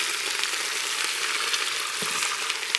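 Meat sears in a Crux pressure cooker, giving a steady, close frying sizzle with broadband hiss throughout and a couple of small pops or stirs, with no voices.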